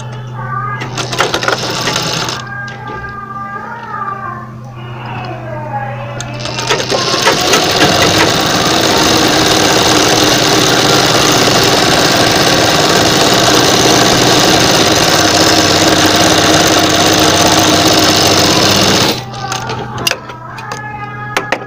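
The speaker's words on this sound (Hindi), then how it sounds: "अब हमें इस पे भी अपनी सिलाई लगा देना है" A sewing machine stitches a kurti sleeve, running loud and steady for about twelve seconds after a few seconds of other sounds, then stopping.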